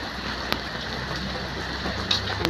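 Heavy rain falls in a constant, loud, close wash of hiss, with a few sharper drips and taps breaking through, no voices.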